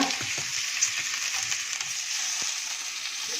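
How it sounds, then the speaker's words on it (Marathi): Sweet potato slices fry in a pan over a medium gas flame with a steady, dense sizzle, close and continuous, with a few faint stirring knocks and no talking. "आणि आपण आता हे 1-2 मिनिटं परतूया."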